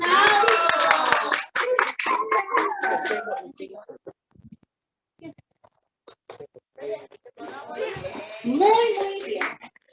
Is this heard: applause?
yes